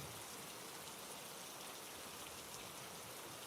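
Steady rain falls in a Bengali horror cartoon scene, a continuous even hiss of drops with no breaks, moderately quiet and with no talking.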